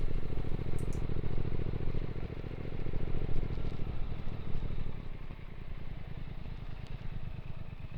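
A Triumph Speed Twin 1200 motorcycle is ridden, its parallel-twin engine giving a loud, steady low drone with a dense throbbing pulse that shifts pitch partway through, alone without talk.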